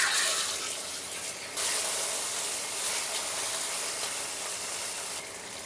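Vegetables dropped into hot oil in a wok, a loud hissing sizzle that dips briefly, surges back and settles into a steady fry, then softens at the end, with no one talking.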